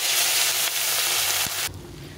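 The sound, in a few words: fish frying in hot oil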